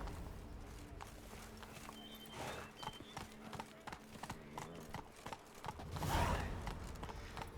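Roach, Geralt's horse in The Witcher 3, trots through the Toussaint region with steady, quiet clip-clopping hooves. A brief whinny and some creaking tack sound along the way, and a louder gust of ambient noise swells near the end.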